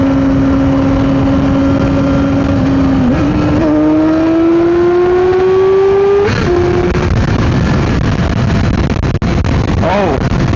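A Yamaha R6 sport bike engine drones loudly, its pitch climbing steadily as it revs higher toward a screaming top end, with rushing wind noise and a voice faintly underneath.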